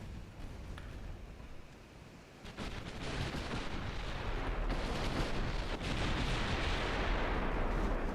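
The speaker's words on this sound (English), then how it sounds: "That is a lot of gunfire" Heavy naval artillery gunfire from warships in the game Ultimate Admiral Dreadnoughts. Booming salvos roll into one another, building from a rumbling barrage to a loud, continuous thunder of big guns, with no voices.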